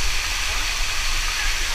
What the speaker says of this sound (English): So this is the base of the biggest waterfall.